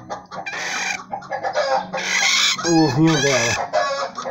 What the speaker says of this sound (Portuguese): Essa é a menor galinha do mundo. Galinha garnizé.